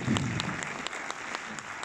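A cinema audience at a film premiere in Orléans applauds, a dense, steady clapping with scattered sharper hand claps standing out, moderately loud throughout this short burst.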